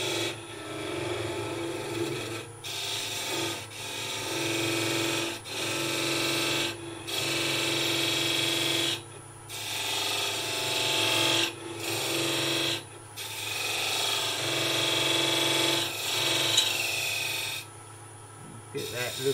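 A wood lathe gouge cuts a spinning wooden goblet, rasping and scraping in repeated bursts broken by short pauses, close and loud, with someone talking now and then.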